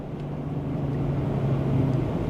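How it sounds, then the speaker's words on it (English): A 2025 BMW X3 M50 taken through corners on back roads, its steady engine and road drone holding close and even throughout, with a low hum rising slightly toward the end and no talking. "So as we take on these back roads, let's see what the cornering is like."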